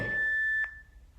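A workout interval timer gives a single sustained electronic beep, clear and close, ending with a brief click and fading out.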